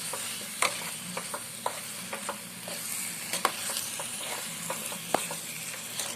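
Ginger pickle sizzling steadily in a pan, a soft continuous frying hiss punctuated by scattered sharp scrapes and clicks of a spoon stirring against the metal, close by and without speech.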